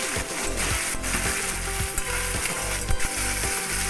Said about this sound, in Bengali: এবারে আমি মাশরুমগুলো দিয়ে দিলাম।